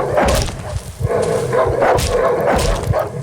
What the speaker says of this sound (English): I also decided to take care of the dogs at my neighbor's camp.